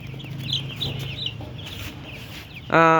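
Broiler chicks, three days old, cluck and peep continuously at close range over a low hum, ending with a sudden loud squawk.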